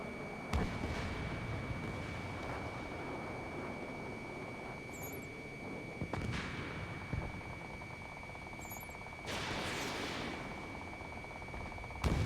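Missiles launch and strike in the Ace Combat 7 air-combat video game, with sharp bursts and whooshing impacts cutting through a steady jet-engine roar and a high warning tone, several hits spaced a few seconds apart.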